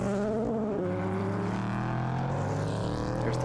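Race cars in a multi-class sports car race at Road America, 30 to 40 cars on track, with a steady droning engine roar and shifting pitch as cars pass, continuous and moderately loud.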